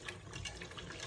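Water gushes steadily into a pot of hearty cream of chicken and mushroom soup, a short, close, continuous pour.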